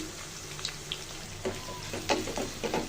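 Onion sizzles in hot oil, being fried toward golden-brown for a chicken gizzard and liver bhuna, a steady close frying hiss broken by a few brief stirring bursts and pops.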